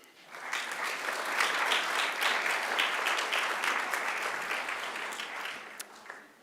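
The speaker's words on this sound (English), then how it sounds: "give them a round of applause" A graduation ceremony audience gives a round of applause, many hands clapping together in a full, even wash that rises quickly, holds steady and tapers off slightly at the close.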